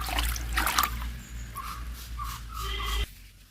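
Dissolved chemical fertilizer solution is poured onto garden plants, a soft close trickle of liquid with faint bird chirps behind it, cutting off abruptly near the end.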